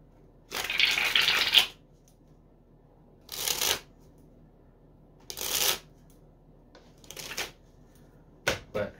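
Chris Ramsey V4 black playing card deck shuffled and handled up close, with one long riffling burst followed by several shorter crisp shuffles separated by quiet pauses.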